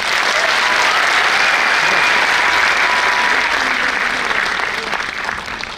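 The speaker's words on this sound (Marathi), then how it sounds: "या सगळ्यांसाठी एकदा जोरदार टाळ्या." Loud, sustained audience applause after a college drama competition play, dense clapping that holds steady throughout and eases slightly near the end, close and continuous with no clear voices.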